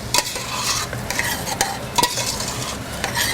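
Rice being stirred through passata in a warm pan for Mexican-style rice, with steady scraping strokes and a soft sizzle underneath, close and continuous with no talking.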